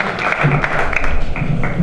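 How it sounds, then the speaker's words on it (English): An audience at a community event on returned citizens claps for their Congressman, steady close applause mixed with crowd murmur throughout the short stretch. "let's give our Congressman a round of applause"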